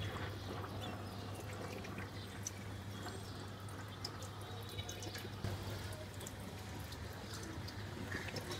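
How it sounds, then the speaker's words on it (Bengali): Faint, quiet splashing and dripping as a pigeon bathes, shaking its body in a dish of water, with scattered soft droplet sounds over a low background. "মায়াটা গা ঝাঁকা দিবে পানিতে।"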